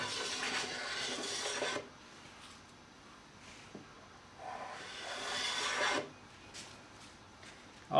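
Hand plane swipes flatten a new wooden workbench top, producing rasping strokes in separate bursts with quiet pauses between, close and moderately loud.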